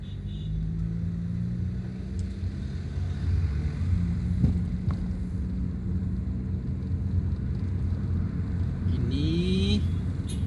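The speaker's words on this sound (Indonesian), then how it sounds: "Banyak sekali motor knalpot brong." Traffic on the trans-Sumatra road near Padang Panjang, where motorcycles with loud modified exhausts pass, gives a continuous low engine rumble, and a rising revving whine swells near the end.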